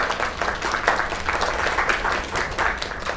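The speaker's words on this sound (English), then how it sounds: "Another round of applause." Applause in a video game crowd scene comes as a steady, close wash of many hands clapping that keeps going evenly from start to finish, with no talk over it.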